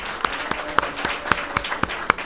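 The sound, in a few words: applause for the candidate panel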